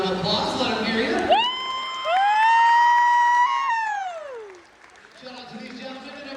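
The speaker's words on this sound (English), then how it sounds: "let's give the United States Marines a big round of applause" A school audience cheers and claps for the United States Marines; a short burst of crowd noise gives way to a long, loud whooping tone that rises, holds and slides down before a murmuring crowd returns.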